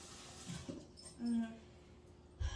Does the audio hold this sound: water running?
no